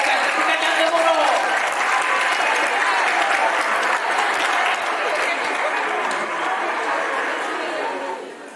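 Thunderous, sustained applause from a theatre audience honouring the play's author and producer after a stage performance, with crowd chatter mixed in, dense and steady for the whole stretch before easing slightly at the end.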